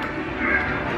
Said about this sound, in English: there's an angry bird in the background